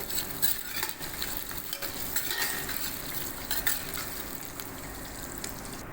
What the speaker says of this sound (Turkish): Evet arkadaşlar kuyruk yağımız iyice kavruldu.